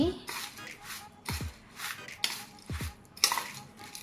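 Puffed rice snack (karam borugulu) being tossed and mixed with squeezed lemon juice in a bowl: dry rustling scrapes and a few light utensil clinks in uneven bursts, fairly quiet and close.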